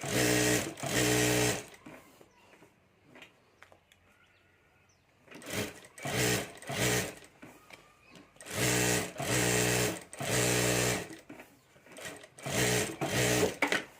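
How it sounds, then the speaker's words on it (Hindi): A sewing machine stitches fabric around the border of a rubber sheet for a handmade Banjara bag, running in several loud close bursts of a second or two each, separated by short pauses with faint handling noises. "तो यहाँ भी ऊपर मैं चारों तरफ सिलाई कर देता हूँ।"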